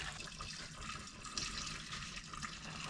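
Bone broth is poured through a funnel into pint mason jars in an Alaskan homestead kitchen, giving a steady, close liquid trickle and splash that runs without a break and with no talk.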